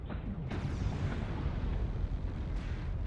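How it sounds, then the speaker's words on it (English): An airstrike in a mech video game lands as a sharp blast with a booming, decaying rumble, followed by a second hit near the end. "Airstrike online."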